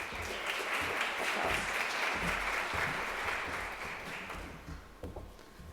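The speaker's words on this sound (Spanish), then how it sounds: "Le brindamos un aplauso de bienvenida." An audience claps steadily to welcome a speaker at the launch of a financial inclusion and literacy index, a dense, continuous round of applause that tapers slightly toward the end.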